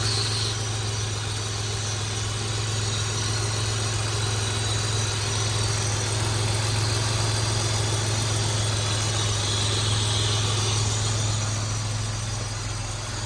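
A Dodge Stealth R/T engine fitted with a new HPS cold air intake idles steadily and loudly up close, a constant low rumble with no revving and no voices.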